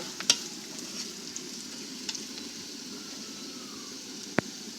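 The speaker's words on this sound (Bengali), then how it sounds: "পেঁয়াজ লাল লাল করে ভাজা হয়ে গেছে বন্ধুরা দেখেন এখন এর মধ্যে মশলা দিব" Browned onions and spices stir-fry in a pan, a soft low sizzle under room noise, broken by a few sharp utensil clicks and taps.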